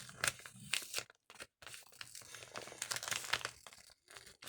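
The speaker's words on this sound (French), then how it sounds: "Enlever le rabat sans abîmer l'enveloppe." Paper flap being carefully torn off an envelope, close and quiet, with short crinkling and tearing bursts separated by brief silences.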